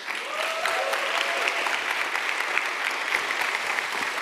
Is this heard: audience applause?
yes